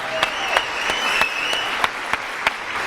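A studio audience claps briskly for a guest on a live television show, the dense applause carrying on steadily and punctuated by a few sharper claps, with no voices over it.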